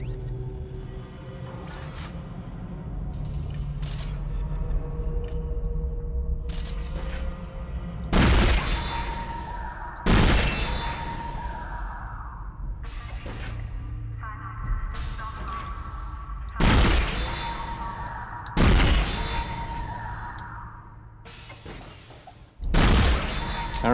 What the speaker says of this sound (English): I don't know why I keep shooting them all in the crotch